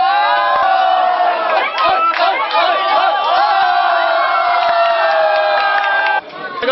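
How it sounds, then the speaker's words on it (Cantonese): A large crowd roars and shouts continuously at a wrap-party banquet for the TV drama 《女人俱樂部》, loud and dense throughout, dipping briefly near the end. "全場歡呼"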